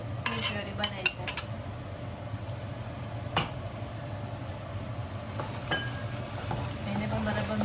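Tomato puree being stirred into hot oil in a pan, with a low steady sizzle, a few sharp clinks of a utensil against the pan early on, and occasional scraping knocks.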